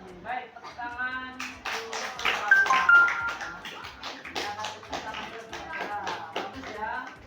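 A small classroom group claps together during a peer teaching observation, with scattered, uneven handclaps rising to a busier burst in the middle, mixed with voices and light shuffling.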